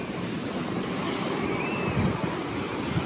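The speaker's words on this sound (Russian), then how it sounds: "Что-то сейчас вода так дошла, что чуть мои тапочки не смыла." Atlantic Ocean waves wash steadily onto a Miami shore, a continuous close rushing surf with some wind buffeting the microphone.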